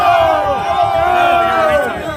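A large crowd outside the Capitol shouts and yells together in a loud, continuous roar of overlapping voices, with raised cries running through the whole stretch.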